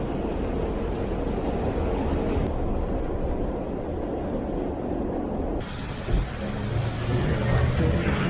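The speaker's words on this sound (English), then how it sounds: "Hour-long train ride to get from Brooklyn into Astoria, Queens" Loud, steady rumble of a New York train in motion between Brooklyn and Queens, heard from inside the carriage, with a brief dip and shift in the roar partway through.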